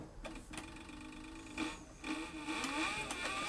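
A Cowboy CB4500 leather sewing machine with a servo motor runs slowly while stitching leather, a faint mechanical whir with soft stitch clatter that rises slightly toward the end.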